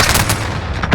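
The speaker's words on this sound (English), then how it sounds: "Friendly precision airstrike on the way." A precision airstrike in a video game: a loud, dense, unbroken barrage of explosive booms and rapid gunfire crackle filling the whole moment.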